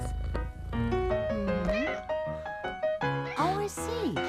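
A cat meows repeatedly at close range in a cat food commercial, a series of rising and falling calls mixed with bright musical tones and short voiced sounds.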